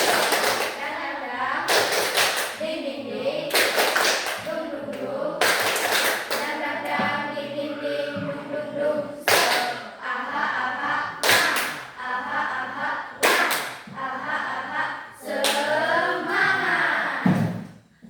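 Classroom ice-breaking clapping chant led by a teacher, with sharp bursts of group hand claps in a rhythmic pattern, the clapping interleaved with children's and a teacher's voices chanting and talking.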